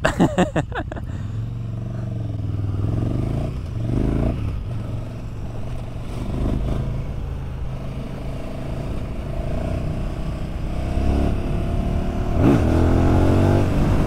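KTM 1290 Super Duke R motorcycle accelerating, a loud engine that revs up sharply at the start, then drones and rises through gears with surging pulls, close to the recording point, with faint talk at moments.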